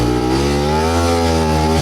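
An enduro motorcycle engine drones steadily as the bike ploughs through deep forest mud, a loud, close, sustained tone that holds its pitch almost throughout before dipping slightly near the end.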